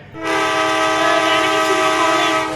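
A steady train rumble in the video game Indian Bikes Driving 3D with a sustained horn-like tonal drone, loud and continuous, starting abruptly and holding for a couple of seconds.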